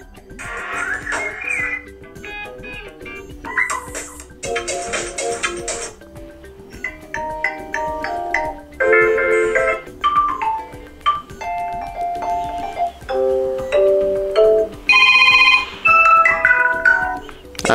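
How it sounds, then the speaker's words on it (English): A series of preset ringtones from a Motorola Moto G9 Power phone, short melodic electronic tunes and chirpy whistle-like beeps playing one after another, loud and close with brief gaps between them. "preset ringtones here. Let's listen to some of them."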